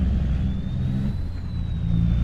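A truck pulling a tanker in Farming Simulator 25 drones with a steady, dense engine rumble throughout, joined by a thin continuous whine, with no breaks and no talking.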